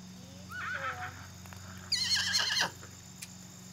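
A young foal being lunged gives a brief whinny and then a loud, high neigh, with soft hoof clip-clops nearby over a steady low hum.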